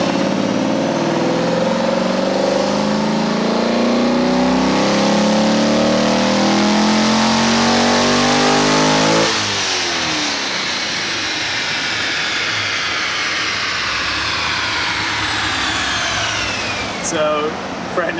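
A Corvette engine revs hard and high through a pull, then the pitch drops sharply midway as the throttle closes and it winds down with a steady drone, loud and close.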